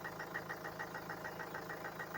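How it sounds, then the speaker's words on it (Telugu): A 2016 Mahindra XUV500 engine idling just after starting, a quiet, steady diesel-like clatter with an even rhythmic pulse repeating several times a second, heard alone without talk. "సింగిల్ సెల్ఫ్ లో అయితే బండి అయితే స్టార్ట్ అవుతుంది"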